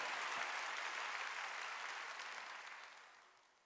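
A church congregation claps during a sermon, a dense wash of applause from many hands that holds steady and then gradually fades away, heard from a distance.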